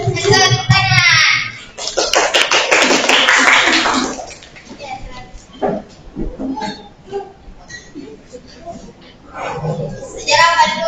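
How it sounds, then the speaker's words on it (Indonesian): A classroom group clapping their hands in a burst of applause lasting a couple of seconds, preceded and followed by a teacher and students talking. "Tepuk tangan."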